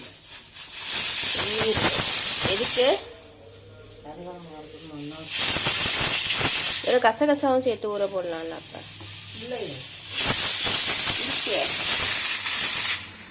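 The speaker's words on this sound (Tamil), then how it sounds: "இந்த குக்கர் எப்படி விசில் விடுது பாருங்க" A pressure cooker lets out three loud, sustained bursts of hissing steam, each lasting a few seconds, with a person talking in between.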